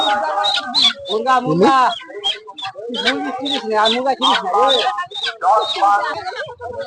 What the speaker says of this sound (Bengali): এই পাশে যে মুরগিগুলো আছে সবই সোনালী মুরগি